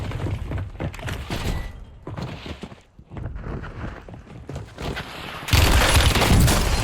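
Rapid SMG gunfire from a Call of Duty match on Ashika Island, dense bursts of shots with footsteps and scattered impacts, loudest and most continuous near the end, no talking.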